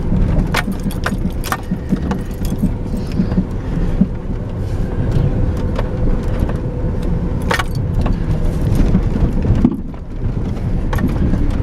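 A vehicle drives down a dirt road on a hillside site, with a steady low engine rumble and rattling throughout, plus scattered knocks and jolts from the rough surface, fairly loud and close with no talk.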